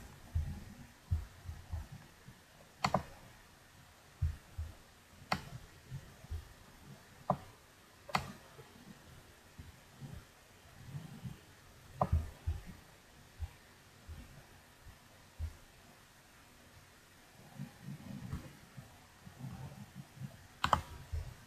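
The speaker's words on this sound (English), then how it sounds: "So I'm just going to type in business." Someone types a search on a computer keyboard, and the quiet, close key clicks come in small irregular bursts with short pauses between them.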